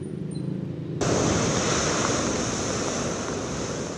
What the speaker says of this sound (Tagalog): nangangalit at naglalakihan ang mga alon sa dagat sa Ilocos Sur